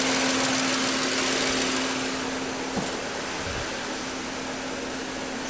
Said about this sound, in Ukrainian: Сто п'ять градусів включився вентилятор.